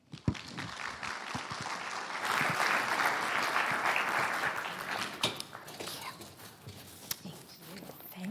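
Audience at a university admissions workshop applauding to welcome a presenter, a steady wash of clapping that swells and sustains for several seconds before tapering, with scattered louder claps near the end.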